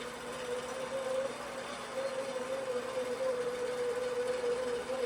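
A long-arm quilting machine stitching along a programmed quilt path hums steadily throughout, a constant mechanical whir with a sustained tonal drone and no pauses.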